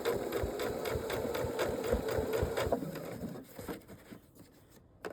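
A sewing machine stitching fabric strips into a round jelly roll rug, running in a fast steady patter of needle strokes for about three seconds before slowing and stopping, close and without talk.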